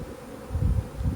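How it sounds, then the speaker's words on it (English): Swarming honey bees buzz loudly and close, a thick continuous drone with low swelling pulses as they move toward their landed queen, and no speech. "So the bees have realized that the queen has landed over here, and so they are moving toward the queen"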